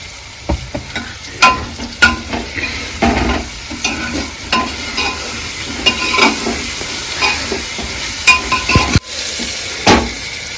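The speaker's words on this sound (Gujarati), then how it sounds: "તેલમાં થોડો સડવા પણ દેવાનો છે આપણે એમાં સડવા દેવાનો છે તેલમાં" Cluster beans (guvar) fry in oil in a pan, a steady sizzle broken by repeated scrapes and clinks of a spoon stirring against the metal, close and fairly loud, with no talking.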